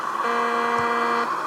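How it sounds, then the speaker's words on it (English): Peterbilt truck air horn in American Truck Simulator, one steady blaring blast about a second long over constant engine and road noise. "the air horn is different on the Peterbilt"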